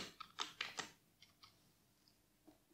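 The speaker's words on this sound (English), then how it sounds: "So let's type SDL." A few quick, light keystrokes on a computer keyboard while entering a search for the SDL library, a short burst of clicks followed by a couple of fainter taps, close and alone.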